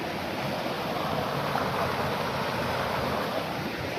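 Rainwater drains off flooded farm fields into a ditch, a steady broad rushing wash that stays even and continuous from start to end.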